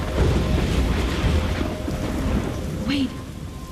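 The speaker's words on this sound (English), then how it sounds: "I'm trapped in a storm?" A thunderstorm in the video game Life is Strange brings steady, loud rain and rumbling thunder that fill the whole scene, with a faint tonal cry rising briefly near the end.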